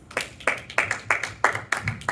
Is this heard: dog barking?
no